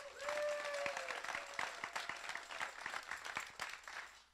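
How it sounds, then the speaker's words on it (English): Employees at a company all-hands meeting applaud the 2013 Party Rockers, a moderate crowd clapping with distinct individual claps standing out, a faint tone and brief background sounds early on. "Let's give them a round of applause"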